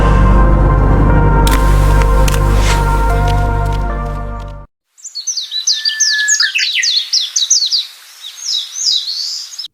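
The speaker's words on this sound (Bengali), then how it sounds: "গ্রামের সকালগুলো আলাদা হয়, শহরের মতো নয়েজ হয় না, শুধু পাখির শব্দ আর অন্যরকম শান্তি।" Birds chirp and tweet in quick clustered bursts on a quiet village morning, bright and fairly close. Other sounds play before the birds take over, and the birdsong is then heard alone.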